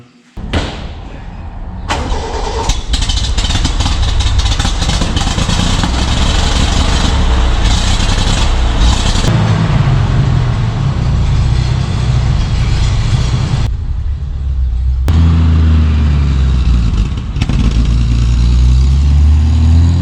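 Old carburettor truck engine kept in a shed cranks and catches, then runs loud and close with a steady low rumble, revving and easing across the stretch, with door-like clunks near the start.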